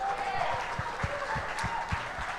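A crowd applauds and cheers at a Green Bay Packers clubhouse event, a steady wash of clapping with a few sharper bursts and murmured voices underneath.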